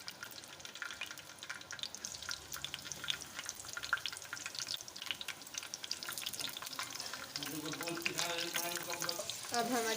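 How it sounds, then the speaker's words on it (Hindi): Potatoes frying in hot oil for a breakfast dish, a steady broadband sizzle with stirring clatter that grows louder near the end, with no talk over it. "ऑयल हमारा गर्म हो चुका है। अब इसमें हम अपने पटाटो ऐड करेंगे।"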